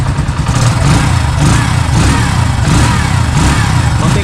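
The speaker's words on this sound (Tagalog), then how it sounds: "Pakinggan nyo yung makina niya. Guys, so napakatahimik ng Kawasaki" A 2024 Kawasaki CT125 motorcycle runs close by, its engine putting out a steady low idle with slight rhythmic surges, loud and continuous with no talk.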